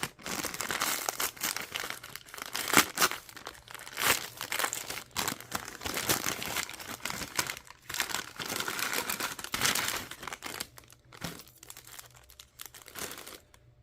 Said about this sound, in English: I'm trying to open this carefully because I want to keep that lavender sticker.